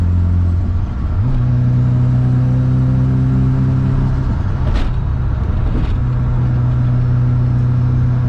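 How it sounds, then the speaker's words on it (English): A Mazda FC RX7 cruises on a highway with a loud, steady engine drone that shifts pitch early on, with a couple of brief whooshing bursts from passing traffic or wind. "I'm also driving on the highway."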